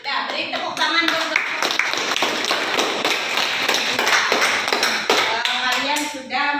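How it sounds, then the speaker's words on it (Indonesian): Students in a classroom clap hands for their classmates, an uneven run of close claps and taps with desk thumps and shuffling, with talking at the start and end. "Sudah, beri tepuk tangan dong."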